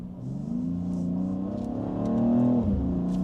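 A 2024 BMW X3M Competition accelerating in transmission setting 1, the engine drone climbing steadily in pitch before a shift briefly drops it, heard from inside the cabin, loud and continuous.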